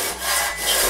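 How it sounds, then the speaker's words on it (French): A hand saw cuts through wood for a Christmas candle holder, giving a short, close rasping stroke that swells and fades twice in under a second, with no voices. "Faut savoir si tu scies droit."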